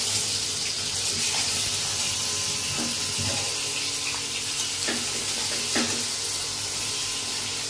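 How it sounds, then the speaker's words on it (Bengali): Fish fry in a pan on a gas stove in a windy outdoor setting. A steady, dense sizzle and spatter runs throughout at moderate level, with a few faint clinks and no talking. "মাছগুলো ভেজে নিই।"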